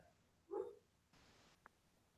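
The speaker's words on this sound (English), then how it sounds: "my dog is having a dream in the next room" A dog whimpers in its sleep while dreaming in a nearby room, giving one soft, muffled whine at middle distance followed by a brief hiss and a tiny faint yip, with no one speaking.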